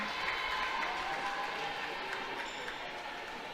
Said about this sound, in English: you can hear just the crowd buzzing and cheering